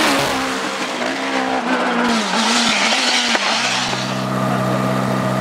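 Supercharged Ford Suzuki hillclimb race car at Shelsley Walsh, British Hillclimb Championship: a loud, close engine wailing high through rapid gear changes, revs rising and dropping in quick steps with a brief tyre squeal, no voices.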